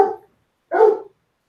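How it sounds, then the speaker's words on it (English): Dogs barking, two separate short, loud barks with a pause between them, close by and with no other sound. "Lots of dogs barking around you."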